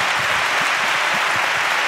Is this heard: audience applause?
yes